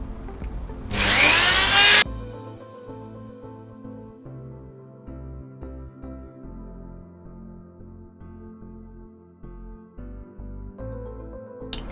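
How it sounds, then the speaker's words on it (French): A small Dremel rotary tool cuts into an airsoft sniper rifle part. It gives one short, loud, high-pitched grinding burst near the start, then a steady low motor hum with light handling noises. "avec ma petite Dremel et l'outil qui va bien pour découper"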